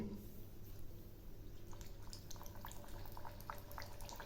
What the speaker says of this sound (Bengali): তেল গরম হয়েছে, এখন আমি ছেড়ে দিচ্ছি